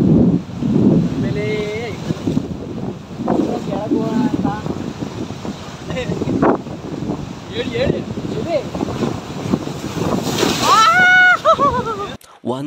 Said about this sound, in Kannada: ಅಲೆಗಳ ಸಪ್ಪಳ ಅಲೆ ಡೈರೆಕ್ಟ್ ಆಗಿ ಬಂದು ನಮ್ಗೆ ಹೊಡಿದ್